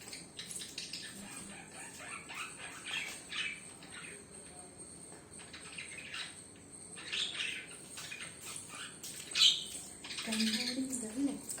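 Birds chirp and tweet in short bursts across the whole stretch while being fed, with livelier calls near the end and faint background noise.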